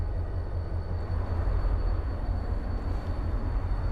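A moving train heard from inside, a steady close low rumble and rolling wheel noise running evenly throughout with no talk.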